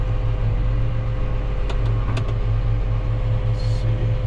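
A John Deere 8430T tractor engine runs at a steady, loud, low idle heard from the cab, with a constant rumbling drone and a few faint clicks of controls being worked.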